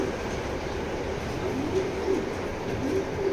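A female racing pigeon cooing softly in repeated low phrases over a steady background hum, faint and close with no talking.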